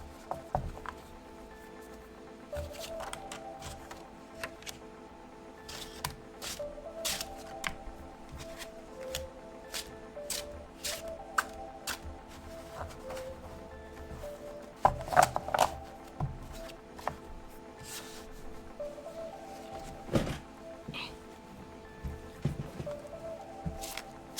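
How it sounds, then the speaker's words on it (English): Tarot cards being shuffled on a mat, a steady run of soft riffling flutters and light taps that keeps going throughout, with a few louder slaps and clicks mixed in and no talking. "And now I'm just shuffling off camera because there's no more room on the mat."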